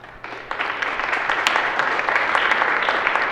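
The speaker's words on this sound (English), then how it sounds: "Please give yourselves a round of applause." Inductees and guests at a National Honor Society induction ceremony applaud, a dense wash of many hands clapping that starts softly and swells into steady, sustained applause from a sizable room.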